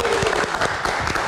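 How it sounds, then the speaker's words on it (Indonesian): Studio audience applause at an Indonesian film talk show, a short, steady burst of clapping close by. "kita berikan tepuk tangan sekali lagi."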